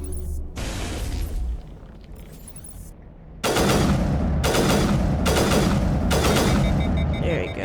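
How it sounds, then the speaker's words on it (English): Enemy gunfire in the video game Mass Effect, with scattered shots followed by loud, repeated bursts of rapid automatic fire in a rough rhythm. "But there's some more shooting at us."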